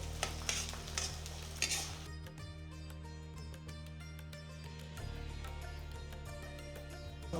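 Garlic and onion sauté in hot oil for a Chettinad Karaikudi fenugreek kuzhambu, with a bright crackling sizzle in the first two seconds that settles into a softer steady fry over a low constant hum. Occasional utensil taps are heard, and no one speaks.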